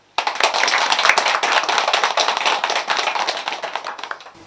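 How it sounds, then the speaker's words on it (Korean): A congregation at a Buddhist temple ceremony for Buddha's Birthday claps in a burst of applause. It begins abruptly, stays brisk and fairly close, then thins out toward the end. "큰 박수를 부탁드립니다"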